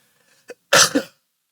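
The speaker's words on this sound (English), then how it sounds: "Excuse me for the coughing." A single harsh cough bursts out close up, preceded by a small throat sound, then silence.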